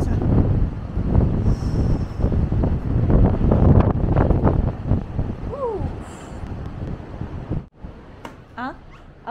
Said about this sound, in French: Aujourd'hui, encore tempête de vent.